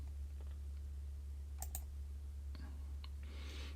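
A computer mouse clicks twice in quick succession, crisp and close, followed by a couple of fainter clicks over a low steady hum.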